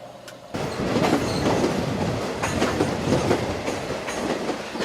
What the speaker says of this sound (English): we are at Kliptown train station